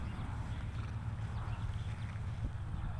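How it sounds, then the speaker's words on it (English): A horse moves at a farm house, its hooves clip-clopping faintly and steadily under a constant wash of low outdoor rumble, with no talking over it. "My horse."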